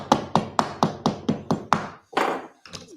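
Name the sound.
knife used as a hammer tapping on hardwood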